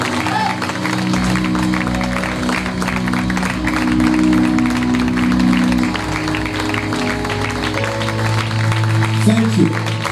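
A congregation at a church seminar applauds in a steady, sustained wave of clapping, joined by some cheering and a low musical drone in the background.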